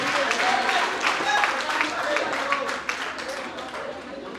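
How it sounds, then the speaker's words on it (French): Audience applause at a village festival rap conference, steady clapping from a crowd lasting throughout, mixed with voices talking over it. "applaudissez encore une fois pour elle"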